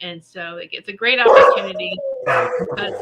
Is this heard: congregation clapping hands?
no